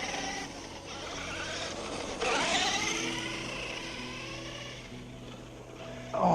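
FTX Bugsta 1/10 scale 4x4 RC car with big chunky tyres driving on a road, a faint whirring electric motor buzz with a brief louder surge midway as it passes, steady tyre noise throughout.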